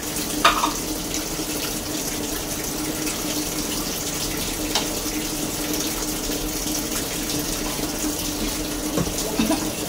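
A washing machine left draining, with water running and gushing steadily out of it, a constant moderate splashing flow with faint clicks, close by and without talk.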